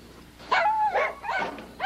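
Dogs at a boarding and grooming kennel give a quick run of close, loud barks and yips, about four sharp calls in under two seconds with no talk.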